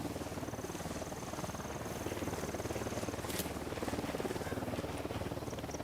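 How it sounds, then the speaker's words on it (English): A steady, low rhythmic chopping of helicopter rotors in Ghost Recon: Wildlands drones throughout, muffled and moderately distant, with a brief faint click partway through. "Oh, I hear a helicopter."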